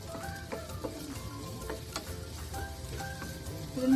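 Onions fry in oil with a soft, continuous sizzle, and light scraping strokes of a utensil stir them in the pan, quiet and close, with no talking.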